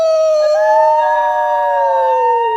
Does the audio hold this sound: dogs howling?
yes